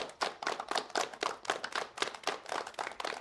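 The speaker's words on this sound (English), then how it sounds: "Let's start clapping it up for the CEO." Steady rhythmic clapping from a small group, hands striking in a regular beat, close by with no talking.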